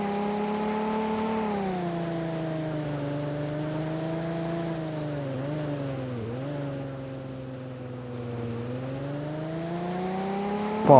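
A car engine in a Roblox video game drones steadily with its pitch rising and falling as it revs, a smooth continuous hum without any voices.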